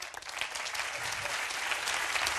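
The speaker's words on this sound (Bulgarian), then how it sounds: "Аплодисменти за Тото! Браво" Dense applause from the studio audience of a TV impersonation show, sounding steady and fairly distant without voices on top.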